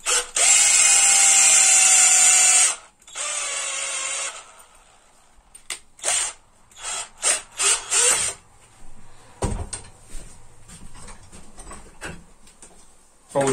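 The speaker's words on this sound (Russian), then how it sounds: "Также вставляем шуруповерт." A cordless drill spins up as it twists electrical wires into a braid, whirring loudly in a long burst, then a shorter one, followed by brief clicky pulses of the chuck and mechanism.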